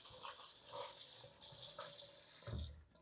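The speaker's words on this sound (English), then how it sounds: "get it nice and wet" Tap water runs into a sink to soak a cooling towel, a steady close gush that shifts in tone as the cloth moves under the stream, then cuts off near the end.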